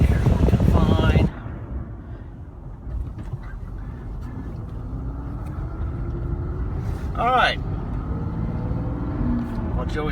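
A 2011 Dodge Ram diesel pickup driving, with a steady low engine and road rumble running throughout, and a person speaking briefly over it at the start.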